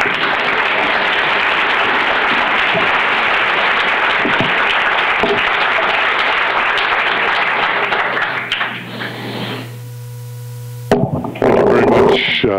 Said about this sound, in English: And thank you for that applause.